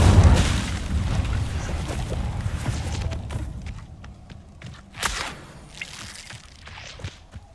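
An Incendio fire spell cast in Hogwarts Legacy, a broad whooshing burst of flame that starts loud and dense, then fades into crackling rumble with a few sharp pops afterward.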